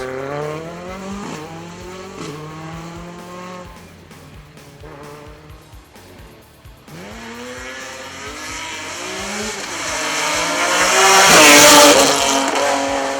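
BMW M3 rally car racing on a stage rally, its engine revving up and down through repeated gear changes, then a rising roar and tire noise as it passes close and loud.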